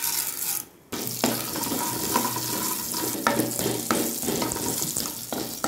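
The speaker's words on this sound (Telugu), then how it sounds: "ఒక పావు ఆయిల్ వేడైన తర్వాత చూడండి, శనగపప్పు, మినపప్పు, జీలకర్ర," Chana dal, urad dal, cumin and mustard seeds hit hot oil in a pan, with a loud, steady sizzle and crackle that continues throughout after a brief quiet moment at the start.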